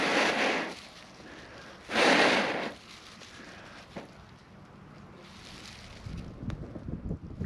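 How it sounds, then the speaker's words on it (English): Gusty wind blowing outdoors during flint-and-steel fire lighting, with broad rushing bursts and microphone buffeting rising and falling, the strongest gust about two seconds in, followed by lighter crackly handling sounds. "Now the wind is helping me here."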